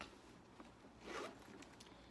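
Zipper on a black Henri Bendel tote bag's pocket being pulled, a brief quiet rasping slide lasting well under a second, close to the microphone in an otherwise hushed room.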